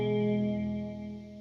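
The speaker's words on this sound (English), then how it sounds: "I mentioned this room reverb on the BlueSky. It sounds like this." Electric guitar played through the room reverb setting of a BlueSky reverb pedal, a sustained chord that rings out with a bright, roomy wash and slowly decays, heard alone without any talking.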